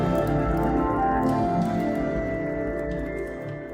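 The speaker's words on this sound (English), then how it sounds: "And this is the sound of the Carina Nebula cosmic cliffs." NASA sonification of the Carina Nebula cosmic cliffs: a dense, sustained drone of layered tones with a deep rumbling low end, steady and loud throughout before easing slightly near the end, with no voices.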